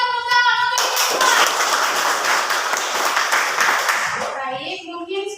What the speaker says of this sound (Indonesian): Oke, berikan tepuk tangan untuk kita.